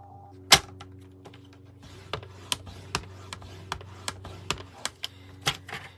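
A bone folder or scoring tool is drawn repeatedly across a sheet of paper being prepared for a small bound book, giving a series of sharp, close scratchy strokes with short pauses between them.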